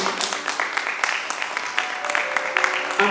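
A church congregation claps together in steady, moderately loud applause during a Sunday service, with scattered individual claps standing out.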